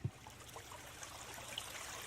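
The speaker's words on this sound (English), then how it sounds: "Little babbling brook." A small babbling brook trickling and gurgling steadily outdoors at night, faint and continuous with no voices.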